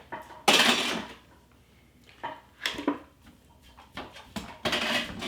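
Pork being put into a slow cooker for taco soup, with a few close knocks, scrapes and clatters of a pot and utensils in irregular bursts, moderately loud and without speech.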